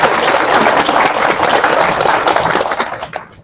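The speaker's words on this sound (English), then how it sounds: "Can we give Dr. Dunn one more round of applause?" Loud, sustained applause from an audience at an Asian American Pacific Islander Mother's Day celebration honoring a community champion, dense clapping that holds steady and then fades out near the end.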